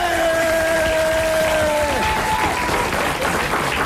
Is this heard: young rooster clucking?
no